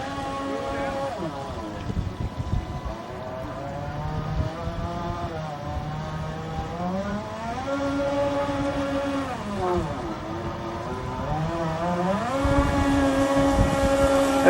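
An RC model boat cruiser, rebuilt from a Walmart kit, runs on water with a whining electric motor whose pitch rises and falls as it speeds up and slows, while people talk nearby.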